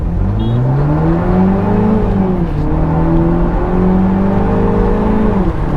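A car engine in sport mode revs steadily while driving, a smooth droning tone that rises and dips with the throttle and stays loud and continuous without any voices.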